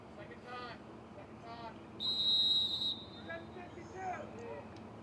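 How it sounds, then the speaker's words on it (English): A referee's whistle gives one clear, shrill blast lasting about a second at a youth soccer match at the Virginia Beach Sportsplex Stadium, heard amid match commentary and distant crowd noise. "Referee blows the whistle toward the middle of the field"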